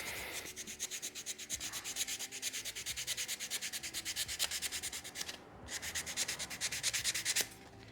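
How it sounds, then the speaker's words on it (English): Close, steady strokes of sandpaper rub back and forth by hand on a small wooden scroll-saw shape, a rhythmic scratchy hiss with a brief pause partway through. "a little sanding in there"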